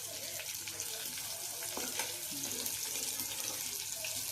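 Prawns fry in a pan for a prawn fry, with a steady close sizzle and crackle of hot oil and a few scraping stirs as the pieces are turned over, continuous throughout.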